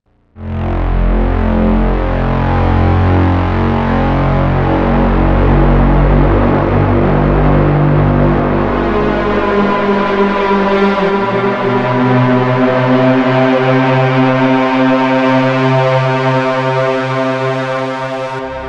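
A loud sustained Roland GAIA 2 synthesizer tone swells in, its pitch and texture shifting with echoing delay repeats and a wide reverberant wash, held for the whole stretch.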